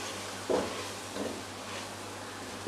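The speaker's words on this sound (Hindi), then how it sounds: "अब इसके अंदर चला जाएगा ये बेसन, अब हम बेसन को भून लेंगे।" Gram flour (besan) roasting in a pan over a very low flame, with a soft steady sizzle and a few brief scraping stirs.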